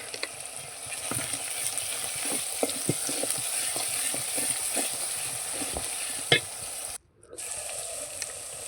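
Onions frying in a pan with salt, the base of a homemade country rooster curry, sizzle steadily while a spoon stirs and scrapes them in uneven strokes, with a brief pause near the end.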